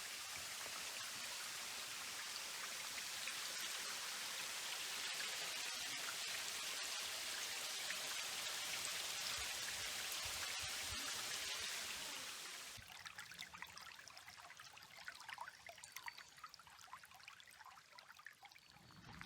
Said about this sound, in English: This is the start of the waterfall.